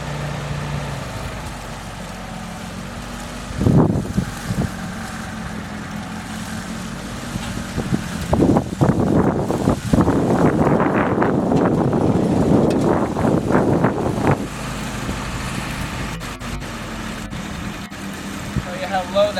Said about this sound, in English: here we go, nice and slow. crawls right along nicely in 4 low.